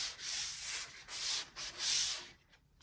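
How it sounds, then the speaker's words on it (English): Drywall tape on a sheetrock repair gets sanded lightly by hand, producing soft, hissing scrapes in several back-and-forth strokes with brief pauses between them, close and fairly quiet. "we are going to sand over the tape"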